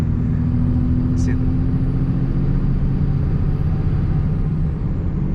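A Cummins diesel truck with a six-speed and cold air intake pulls steadily at light, roughly 20% throttle, a loud continuous low drone heard from close by with no break.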